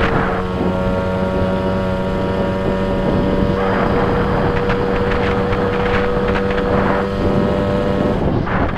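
Stock, original-engine motorbike climbing a hill at steady speed, its engine droning with a constant buzzing tone that stays loud and close throughout, with no talking.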